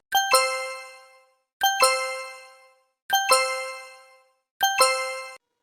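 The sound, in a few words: phone message notification tone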